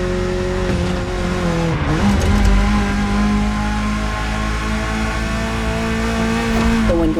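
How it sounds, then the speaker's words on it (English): A BMW E30 from 1982 driven hard in the racing game Motorfest, its engine note loud and steady with rising and falling revs, brief tire squeal and shifts, no talking. "The one you're driving is the E30."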